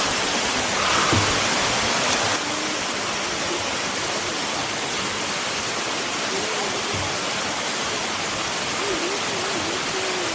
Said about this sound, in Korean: 이 비가 내리지 않으면 볼 수 없다는 이 여신 폭포. 와, 정말 우렁차게 떨어지고 있습니다